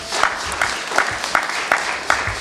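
Wedding congregation clapping in steady rhythm during a church service, about six even beats in quick succession, loud and close with a busy crowd around.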